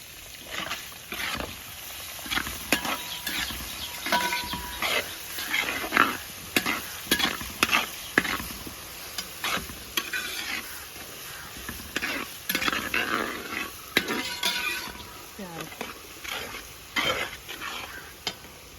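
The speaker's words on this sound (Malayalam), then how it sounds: "ഇതിലേക്ക് നമുക്ക് അരിഞ്ഞു വെച്ച സബോള ചേർത്ത് കൊടുക്കാം." Chopped onion with green chili and ginger fries in a pan for vegetable upma, giving a close, continuous sizzle broken by frequent stirring scrapes and clatter throughout.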